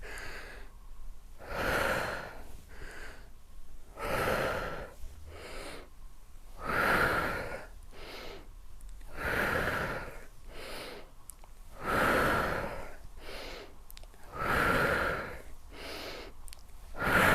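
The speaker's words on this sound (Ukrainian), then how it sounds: "Вдих, видих." A person breathes slowly in and out during a lymphatic drainage exercise: steady, audible breaths in a regular rhythm of about one every two seconds, close and alone.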